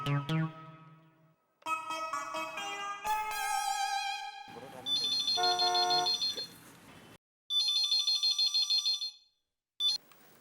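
A telephone rings in a household scene, with electronic ringtone bursts that start, stop and repeat in loud, close tones broken by short pauses.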